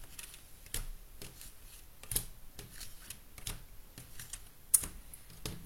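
Tarot cards are shuffled by hand at close range, giving a series of soft irregular riffling and slapping clicks with quiet gaps between them.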